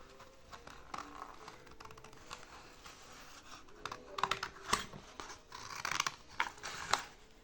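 Scissors snipping through a paper pattern for a women's double-buckle sandal, a run of small crisp cuts and rustles close by, growing busier and louder toward the end, with no talk.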